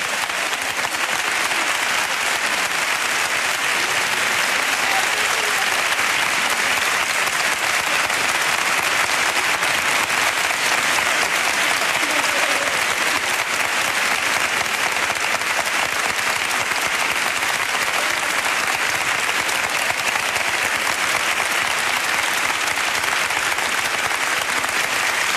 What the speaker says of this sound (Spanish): este aplauso que suena a Gloria Bendita es para ti